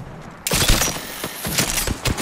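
Rapid gunfire erupts in an Apex Legends firefight, a loud burst of close, overlapping shots after a brief quiet start, continuing in uneven clusters to the end.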